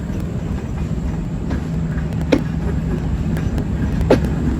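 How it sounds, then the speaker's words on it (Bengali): The Sundarban Express, a passenger train from Dhaka to Khulna, rumbles along near Rajbari with a steady low drone and a couple of sharp metallic clicks from the wheels and rails. "সুন্দরবন এক্সপ্রেস ট্রেনটি ঢাকা থেকে ছেড়ে এসে খুলনার উদ্দেশ্যে এটা এখন রাজবাড়ী অতিক্রম করে পাংশার দিকে অগ্রসর হচ্ছে।"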